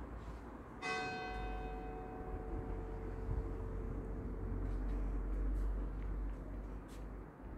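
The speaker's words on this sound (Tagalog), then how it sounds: "Nagring ang bell." A church bell at Poppi castle in Arezzo, Italy, strikes once loud and near with a long shimmering decay over steady outdoor rumble and wind-like noise.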